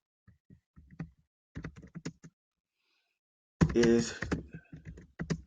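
Keyboard typing in short clustered bursts of taps, fairly close and quiet, with pauses between runs and a louder stretch where a person speaks over it.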